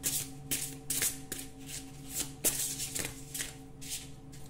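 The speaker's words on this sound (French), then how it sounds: "Les cartes se mélangent bien." Oracle cards being shuffled by hand, a series of soft riffling, flicking bursts in a fairly steady rhythm, quiet and close with a faint hum underneath and no talk.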